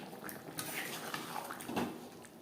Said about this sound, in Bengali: কাসুরি মেথি গরম মশলা পাউডার চিকেনের সাথে বেশ ভালো করে মিক্সড করে দেব